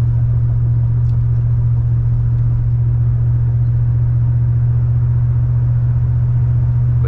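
A 1982 GMC Caballero running and driving, its engine a steady low rumble heard from inside the cab, loud and constant with no talk.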